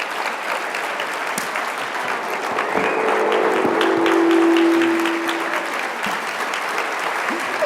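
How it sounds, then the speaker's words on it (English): Audience applause for Coach Pete Johnson and Caylin Moore at a sports-themed talk: steady, full clapping from a crowd, swelling slightly midway, with a faint tonal hum beneath. "Folks, a round of applause, please."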